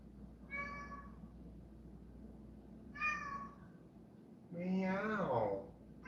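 A cat meows three times at spaced intervals, the last call longer and more drawn out, fairly close and clear over quiet background.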